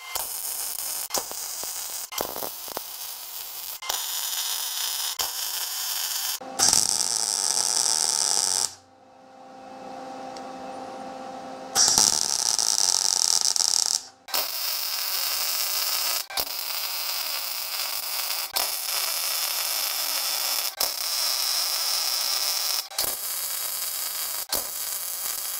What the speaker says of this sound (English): First thing I want to do is I want to finish welding up the back side of this